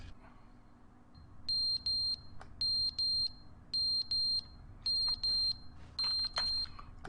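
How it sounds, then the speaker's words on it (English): An electronic alarm in the video game Stanley Parable Ultra Deluxe sounds in clipped pairs and triplets of shrill beeps, repeating at regular intervals over a low background hum. "What's the alarm for?"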